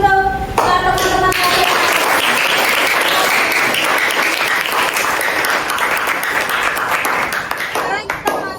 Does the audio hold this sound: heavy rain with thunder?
no